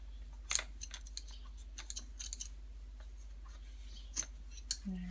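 Scissors snip the loose yarn ends off a handmade God's Eye weaving, giving several quiet, sharp cuts spaced irregularly against a near-silent room.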